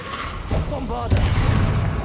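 A Bombarda blasting spell in Hogwarts Legacy detonates with a sudden booming burst about midway, followed by a rumbling low roar that lingers to the end, with game sounds beneath.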